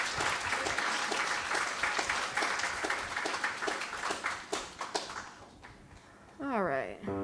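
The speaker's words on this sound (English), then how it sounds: "Let's give Gary another round of applause." A church congregation claps during a Sunday service, the applause thinning into scattered individual claps before fading, followed by a brief tonal sound at the end.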